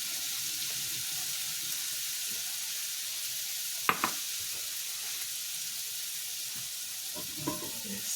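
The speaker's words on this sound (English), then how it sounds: "That sizzle right there, the butter." Butter sizzling in a hot frying pan, a steady bright hiss that holds throughout, with a single sharp clink near the middle and faint stirring toward the end.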